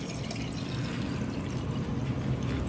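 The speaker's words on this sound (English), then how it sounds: "And then you add in the water." Water is poured steadily into a rosemary and vanilla simmer mix, a continuous close, even splashing trickle with no talk over it.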